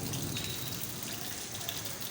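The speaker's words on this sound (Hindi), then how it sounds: "आज देखो कितनी बारिश हो रही है" Heavy rain falls steadily on a rainy day in India, a dense, even hiss of drops on surfaces that stays close and unbroken throughout, with no voices.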